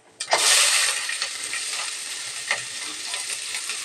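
Loud, steady sizzling of onions frying in hot oil for a kurma, with a few stirring scrapes; no talking.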